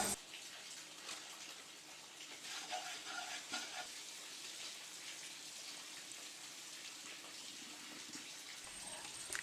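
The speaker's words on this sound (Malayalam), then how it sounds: "ലോ ഫ്ലെയിമിൽ വെച്ച് കൊടുത്തുകൊണ്ട് നന്നായിട്ട് പൊടി ചേർത്ത് ഒന്ന് ഇളക്കി വിടുക" Kashmiri chili powder being stirred in a pan over a low flame for a homemade gooseberry pickle, a soft steady scraping with a gentle sizzle throughout, close and fairly quiet.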